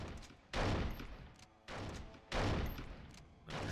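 Heavy automatic gunfire in the video game 24: The Game, in dense sustained bursts broken by short gaps, loud and close, with no talking.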